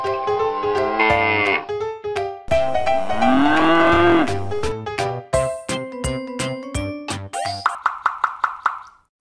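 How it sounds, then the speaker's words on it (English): A cartoonish cow moos from an animal puzzle game for kids: several loud, drawn-out lowing calls, then a run of short plucky plops and chimes, with no talking. "Cow."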